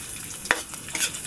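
Garlic, ginger and onion sautéing in a pan for monggo: a quick burst of soft sizzle with a sharp stirring scrape partway through, close and brief.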